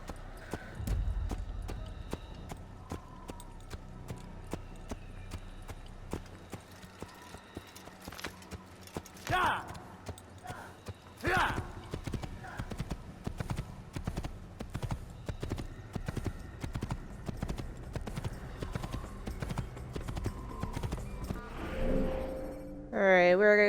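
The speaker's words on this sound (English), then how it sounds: "So I have to ride a horse." Rhythmic clip-clop of horse hooves galloping in the Assassin's Creed video game, with occasional whinnies and game effects, the hoofbeats continuing steadily across the whole stretch.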